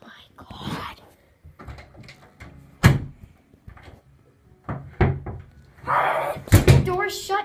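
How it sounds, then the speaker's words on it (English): A door shuts indoors during a nighttime Bloody Mary challenge, giving several sharp knocks and thuds spread among quiet whispering and soft speech. "The door's shut"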